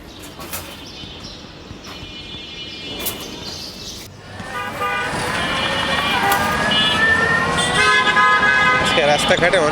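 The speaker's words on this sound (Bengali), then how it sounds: "আজকে রাস্তাঘাটে অনেক বেশি গাড়ি" Busy road traffic with repeated car horns honking, first in brief separated toots and then a dense, continuous chorus of overlapping horns and engine noise growing louder and closer.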